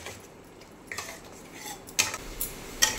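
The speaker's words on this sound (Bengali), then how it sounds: "মশলাটাকে আস্তে আস্তে কষাবো খুব ভালো করে" A spatula stirs and scrapes spice paste in a pan while it is sautéed for fish head curry, with a few sharp metallic clinks over a quiet background.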